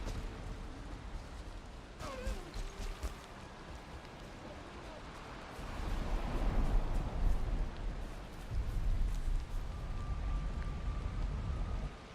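Steady rain in a video game, a continuous dense patter that swells heavier partway through, with short in-game clatters and tones early on and a voice speaking briefly under the downpour.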